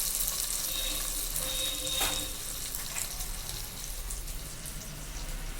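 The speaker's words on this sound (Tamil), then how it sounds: "இந்த வெங்காய வடகம் போட்டு தாளிச்சிட்டோம்னா அவ்வளோ வாசமாக இருக்கும்" Small onion vadagam frying in hot oil as a tempering for a spinach keerai dish: a steady, close sizzle and crackle that continues throughout, with no voices.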